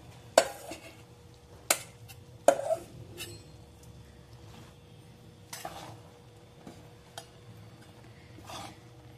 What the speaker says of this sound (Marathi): तर आपण याच्यात आता हे सर्व तूप घालून घेणार आहोत।